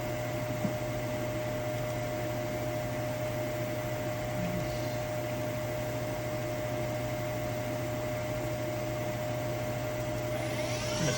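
A 2004 Milltronics RH-20 CNC vertical milling machine runs its spindle at about 1,000 RPM, giving off a steady, even mechanical hum with a constant whine held throughout and no voices.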